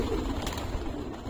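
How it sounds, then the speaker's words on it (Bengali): Female pigeons from an old loft cooing softly while bathing, their low murmurs half buried in a steady, noisy background with no clear splashing. "এই যে আমার সব ফিমেল পায়রা স্নান দিয়েছি আজকে"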